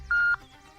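A telephone tone sounds once, a single steady electronic beep lasting about a quarter second, clear and close, followed by a faint hum.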